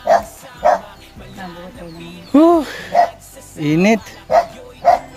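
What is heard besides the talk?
dog barking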